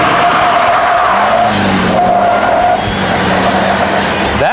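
A stock diesel 4x4 Chevy truck makes a quarter-mile run, its engine droning steadily and loudly, with the pitch stepping between gears and a brief rising whine at the end.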